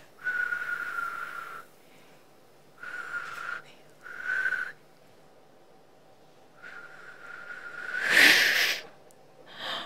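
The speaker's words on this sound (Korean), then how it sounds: "휘파람 아니고 그냥 바람 아니냐?" A woman tries to whistle, producing breathy, airy blows with a thin tone in four or five short bursts, ending in a louder, rougher puff of air close to the mic.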